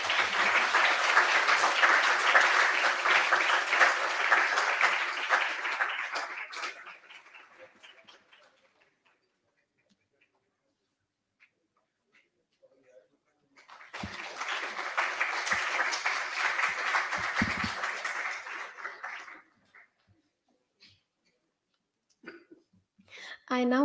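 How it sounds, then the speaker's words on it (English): A lecture audience gives two rounds of applause: a strong burst of clapping that fades out, a long quiet pause, then a second burst that ends abruptly, followed by a voice starting to speak. "Can we please have a round of applause?"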